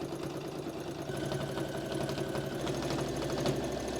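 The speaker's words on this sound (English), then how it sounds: "So pin your waistband in place and give it an edge stitch all the way around." A sewing machine edge-stitches a skirt waistband, running a continuous, steady mechanical hum and rapid needle rhythm at close range with no talk.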